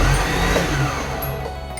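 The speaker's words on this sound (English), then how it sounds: "Is the engine spinning?" A Nissan 240sx with a swapped LS V8 engine turns over, a loud steady mechanical whirring drone of the cranking engine and spinning belts that continues without a clear catch or firing.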